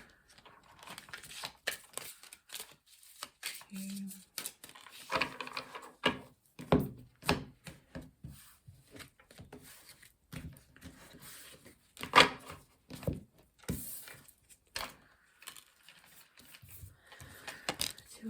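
Tarot cards are shuffled for a love reading, with soft irregular riffling and tapping bursts of card stock against a table, quiet and close, broken by pauses and a brief spoken word.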